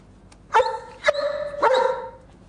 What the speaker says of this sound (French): Ah, il est magnifique, votre chien.